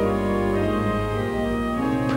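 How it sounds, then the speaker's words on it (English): A historic church organ from 1719, rebuilt several times, plays a sustained introduction at a royal wedding, full chords with deep pedal bass held steadily in a reverberant space, no talking. "What you're hearing now is an introduction on the organ"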